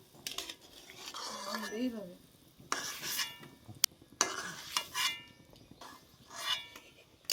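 Metal utensils clink and scrape against a pot as boiled chitol fish dumplings are lifted out of hot water in irregular bursts, with soft rustling between them and no talking.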